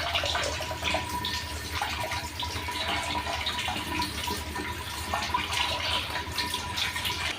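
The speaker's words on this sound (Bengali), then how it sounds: "পাস্তা সিদ্ধ করে ধুয়ে নিচ্ছি" Cold tap water running steadily over freshly boiled pasta in a kitchen sink, a continuous close splashing rush with no talking.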